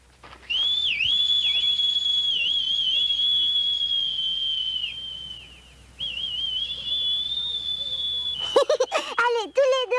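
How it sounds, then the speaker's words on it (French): A grandfather and a young girl whistle a melody together, a steady bright whistled line sustained for several seconds before breaking into quicker overlapping chirping phrases near the end, close and clear. "Oh, comme tu sais bien siffler."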